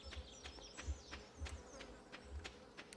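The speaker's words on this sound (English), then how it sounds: "I think there's bees somewhere." Bees buzz in the farming game Stardew Valley, a faint wavering drone with soft, regular pulses that hold steady throughout against a quiet background.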